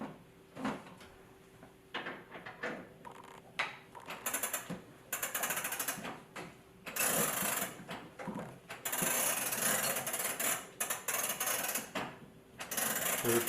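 An antique 1700s music box with a pinned wooden barrel is wound up by hand, giving repeated close ratcheting clicks in bursts, some short and some long, with brief pauses between turns.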